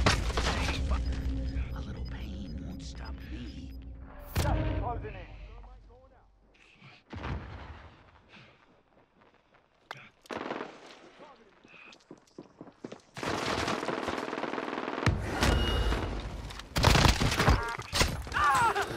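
Sentry turret fire in Call of Duty: Warzone: bursts of rapid mechanical gunfire and booming shots come in clusters between quieter gaps, with a loud sustained barrage near the end and a voice reacting amid the noise.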